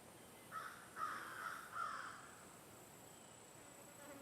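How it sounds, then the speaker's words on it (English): A few raspy caws from a distant crow, three or four calls in quick succession, over a quiet outdoor hiss. "Crows in the background."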